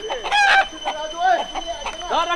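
Chickens in a village in Nepal crowing and clucking close by in short repeated bursts, with some voice sounds mixed in.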